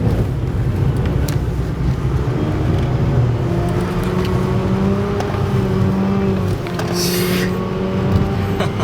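A Mazda RX-8 rotary engine drones steadily and loudly from inside the car as it drives and slides on the wet Nordschleife, with a constant hum of tyre and road noise.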